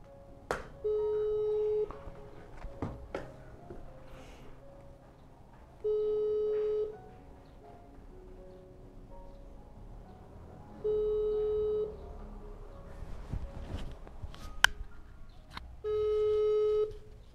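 A telephone ringback tone sounds four times at steady intervals, with faint clicks and handling noises in the gaps between rings.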